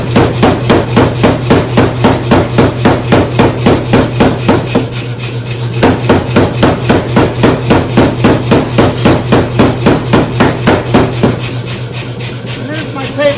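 A blacksmith hammers hot steel into a taper, a loud, close run of rapid, evenly spaced ringing blows that pauses briefly twice before resuming at the same steady rhythm.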